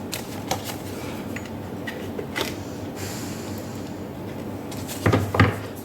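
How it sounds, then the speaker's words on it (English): A deck of tarot cards is shuffled by hand at close range, giving soft papery rustles broken by several sharp riffling bursts, the loudest cluster near the end. "So I shall put it back in and we'll shuffle again for your final outcome."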